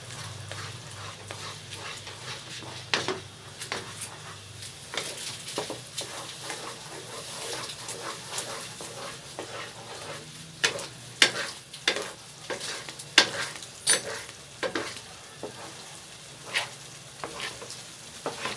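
Semolina halwa thickening in a pan, coloured with food colouring and stirred continuously with a spoon, giving a low bubbling sizzle broken by repeated sharp spoon scrapes and taps that grow busier toward the end, close up and without speech.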